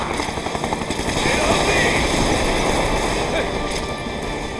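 A helicopter's rotor thrums steadily with a rushing, windy roar in the video game Final Fantasy VII Remake, continuous and fairly loud, a voice faintly present underneath.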